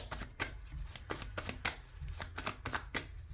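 Tarot cards are shuffled and laid out in quick, crisp riffling bursts, a dozen or so close papery flicks in an uneven rhythm, quiet and with no voice over them.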